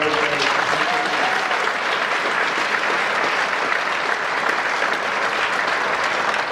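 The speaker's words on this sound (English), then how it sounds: "How about one last big round of applause for all of our" Large audience at a school district welcome back event breaking into a big round of applause, thick continuous clapping filling the whole stretch at a steady level.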